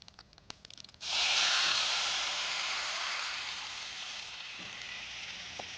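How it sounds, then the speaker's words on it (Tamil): Tamarind water pours into a hot rasam pan seasoned with fenugreek and asafoetida, setting off a sudden loud sizzle that settles into a steady hiss and slowly fades. "இப்போது இதில் புளி தண்ணியை ஊற்றிடலாம்"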